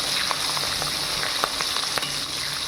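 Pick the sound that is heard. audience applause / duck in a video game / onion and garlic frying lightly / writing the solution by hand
onion and garlic frying lightly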